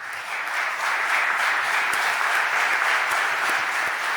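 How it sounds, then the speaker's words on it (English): Sustained applause fills a city council chamber during a meeting in Philadelphia, many hands clapping in an even, dense roar that holds steady for several seconds. "give them a round of applause"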